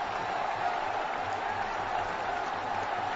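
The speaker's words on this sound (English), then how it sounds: "Once again, there's a loud noise from the crowds." A cricket stadium crowd at a Tendulkar match keeps up a dense, steady roar, distant and unbroken, with no single voice standing out.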